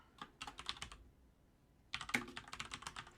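Rapid clicking of keys on a computer keyboard in two bursts of typing separated by a short pause, close and fairly quiet, with no voices.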